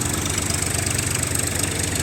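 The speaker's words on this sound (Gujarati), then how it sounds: "આપણું ટ્રેક્ટર છે ઇન્ડોફાર્મ 3048 BI ટ્રેક્ટર" Indo Farm 3048 BI tractor engine running steadily, load-free while driving a thresher for dry mustard, a continuous close diesel drone with an even low rhythmic chug and no talk.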